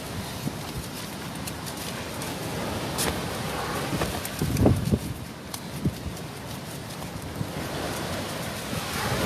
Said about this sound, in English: It's horrendous, this wind is right in our face at the minute.